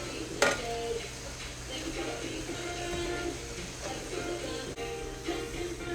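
Chicken chowmein gets tossed in a pan with tongs, giving light metallic clinks and scraping over a soft sizzle, with one sharp clack near the start and quiet, steady stirring after it.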